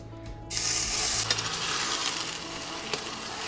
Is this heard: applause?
no